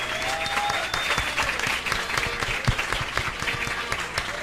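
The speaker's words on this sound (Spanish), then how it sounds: "Un agradecimiento a nuestros panelistas, un aplauso a nuestros panelistas" At a science café talk about sharks, the audience gives the panelists a lively round of applause, dense, close clapping with a few louder individual claps standing out and faint voices mixed in.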